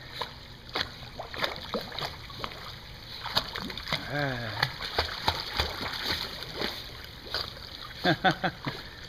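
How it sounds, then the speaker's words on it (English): Teddy splashing as he swims, water sloshing in short bursts with brief bubbly noises, while a nearby voice keeps talking and cheering him on throughout. "There he goes swimming."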